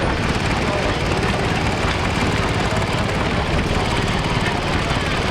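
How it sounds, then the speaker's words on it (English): A 1957 John Deere 420C crawler tractor engine runs loud and steady at a steam-up show, a dense continuous mechanical roar with no pauses. "This is a 1957 Model 420C John Deere."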